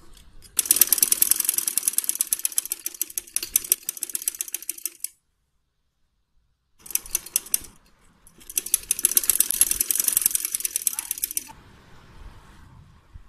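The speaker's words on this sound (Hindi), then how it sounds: "अब हम कंधे की सिलाइयाँ लगा लेंगे।" A sewing machine stitches the shoulder seams of a small girl's frock in rapid, rattling mechanical runs, three bursts broken by short pauses, close and fairly loud with no talk.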